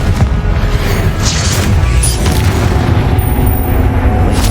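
Combat spells firing in Hogwarts Legacy, a dense, continuous rumble of booming blasts and crackling magic impacts that stays loud and close for the whole stretch, with no talk over it.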